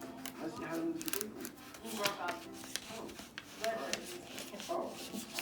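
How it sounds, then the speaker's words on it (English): DTF transfer film is peeled at an angle off a T-shirt, making scratchy, crinkly rubbing bursts up close while a person talks throughout. "when you peeling it, you always want to peel it from an angle"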